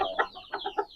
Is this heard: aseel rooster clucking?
yes